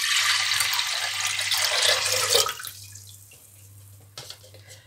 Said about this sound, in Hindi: इसमें मैं डालूंगी 1 लीटर पानी।